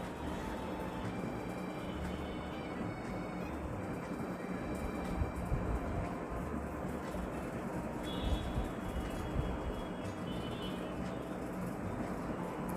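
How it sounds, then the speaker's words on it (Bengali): Metro train passing Pallabi metro station, heard from a rooftop lounge nearby as a steady low rumble and hum at a moderate distance, with faint high whines partway through and no talk. "মেট্রো যাচ্ছে"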